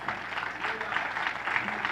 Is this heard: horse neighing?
no